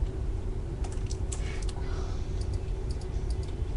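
Typing on a wireless computer keyboard, a quiet scatter of light key clicks over a steady low hum, some clicks grouped in quick bursts.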